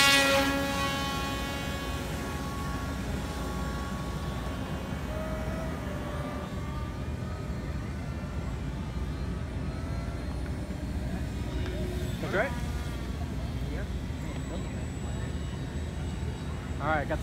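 An R-14D Groundhog RC airplane at Flite Fest 2016 is hand-launched and flies, its electric motor a steady tonal whine with rising and falling pitch sweeps over wind noise, while people talk nearby.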